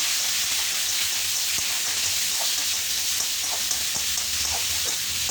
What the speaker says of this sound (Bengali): এবার আলুগুলোকেও আমি ভালো করে ফ্রাই করে নিচ্ছি।